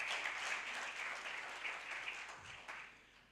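An audience at a campaign launch event applauds continuously, a broad wash of clapping heard from a distance and fairly faint, tapering slightly toward the end.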